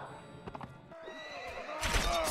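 A horse neighs loudly in a Mount and Blade Warband multiplayer battle, a shrill, wavering whinny with hoof clatter and battle noise around it, rising to a harsh burst at the end.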